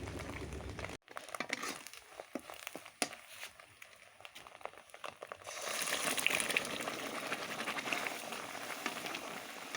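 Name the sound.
frying chana dal in a pan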